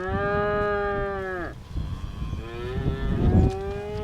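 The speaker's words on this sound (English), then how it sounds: "Darvin Bentledge is tending to some of his cows on a very windy day on his southwest Missouri farm." Two cows moo in succession, loud and close, on a very windy southwest Missouri farm, with a blustery rumble of wind underneath.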